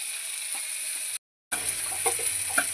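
Koi fish frying in hot oil, a continuous bright sizzle and crackle close by that cuts out briefly and then resumes with a low rumble beneath.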